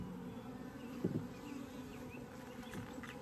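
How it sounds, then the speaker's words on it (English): Bees and other insects buzz softly around a Layens horizontal beehive outdoors, a faint continuous hum with a few nearer passes, no talking. "There are so many bugs here."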